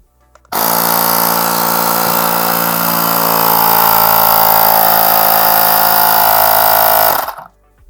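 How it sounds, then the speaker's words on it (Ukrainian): A Parkcity T2191 membrane-type car air compressor starts abruptly and runs at a loud, steady mechanical drone for about seven seconds, its pitch rising slightly as pressure builds, then cuts off automatically. "Компресор е, докачує до потрібного тиску і автоматично вимикається."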